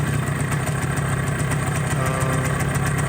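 Cold MZ TS125 two-stroke motorcycle engine idling at high revs, a steady loud close buzzing drone with an even rapid pulse throughout.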